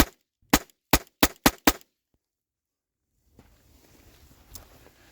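Cartridges are pushed one after another into a gun in a quick run of five sharp clicks, close and distinct. Silence follows, then faint handling noise.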